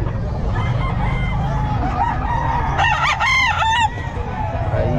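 A Lemon Sweater gamefowl rooster crows once at a busy pet market, its loud drawn-out call rising over steady crowd chatter and murmur.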